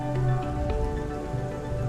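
Rain falling in the video game I Was A Teenage Exocolonist, a steady patter heard over a soft sustained musical backdrop, with no talking.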